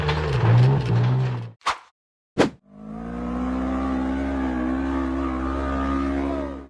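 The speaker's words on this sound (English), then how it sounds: "The black buggy sped up from the valley toward the top of the sand dune" A black off-road buggy climbs from a valley up a sand dune, its engine building into a loud, steady, sustained roar after a few brief whooshing bursts.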